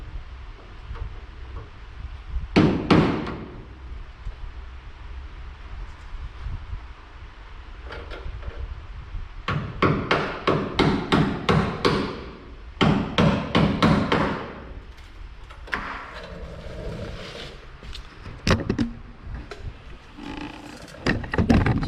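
Hammer blows strike rusted body seams on a 1967 Chevelle, coming in irregular bursts of sharp metallic knocks, some rapid and clustered, close and loud over a quiet garage background.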